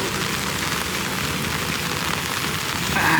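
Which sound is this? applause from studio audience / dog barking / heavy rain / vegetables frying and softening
heavy rain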